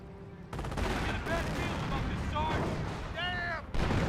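A sniper in Company of Heroes fires on an AT gun, sharp cracks and booming shots ringing out over a busy battlefield of scattered gunfire, with voices speaking over it.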